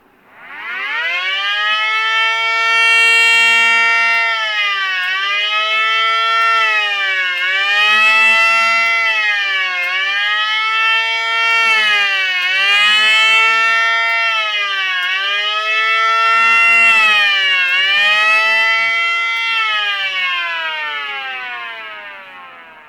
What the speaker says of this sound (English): A dedicated overview and test video featuring my new miniature siren, the Miniature Federal Signal 500 DHTT.